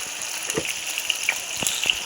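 Seasoning spices and thinly sliced onions sizzle steadily in hot oil in a pan, a close, continuous crackling hiss with scattered sharper pops and spits.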